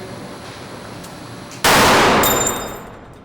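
A wooden beam in a forest products lab bending test snaps at about 12,600 pounds of load: a sudden, very loud, sharp crack like a gunshot that rings and fades over about a second after a low mechanical hum.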